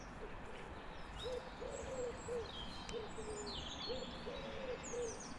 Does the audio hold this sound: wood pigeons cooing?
yes